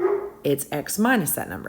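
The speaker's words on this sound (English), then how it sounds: "Sorry about my dog. He's impatient." A pet dog barks in short bursts close by, several yips and bow-wows layered over a person speaking.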